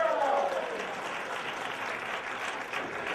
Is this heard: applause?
yes